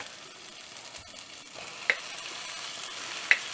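Beef meat frying in a pot for vindaloo, a faint steady sizzle broken by two sharp clinks of a utensil.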